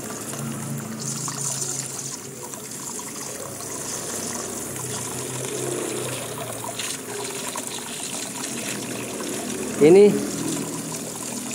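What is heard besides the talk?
water draining from an air compressor tank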